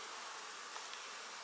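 Honey bees buzz steadily at an open hive, a soft, close, continuous hum with no talk.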